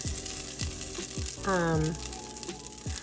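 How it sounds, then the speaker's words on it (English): Bacon grease sizzling in a heated pan, a steady fry with a few light scrapes, while a voice speaks briefly in the middle. "I am going to add some bacon grease to my pan."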